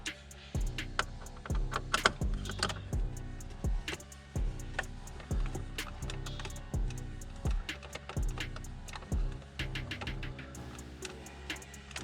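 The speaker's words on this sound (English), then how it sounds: "we are going to take out the two T20 Torx that hold the cup holder in" Inside a BMW G82 M4, a T20 Torx driver backs out the two screws holding the cup holder, making faint, quick clicking ticks in a fairly regular rhythm over a low background hum.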